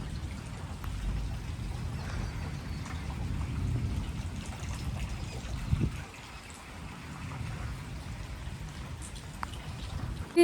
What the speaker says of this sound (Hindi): अब तो थोड़ी बहुत कम बारिश आ रही है।